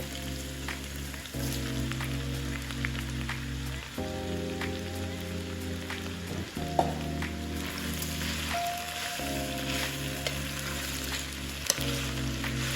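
Leeks and potatoes sauté in oil in a pot, a steady close sizzle under a low humming tone, with occasional clinks and scrapes of stirring.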